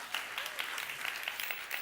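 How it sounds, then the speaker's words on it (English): An audience gives a steady round of applause at a talk, dense overlapping clapping heard at moderate distance throughout, with a faint voice underneath. "Round of applause for them."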